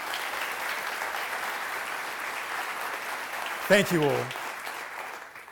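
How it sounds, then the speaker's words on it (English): Audience applause at a conference opening keeps up a steady, broad wash of clapping for about four seconds, then someone briefly speaks over it near the end as the clapping carries on. "So round of applause for everybody"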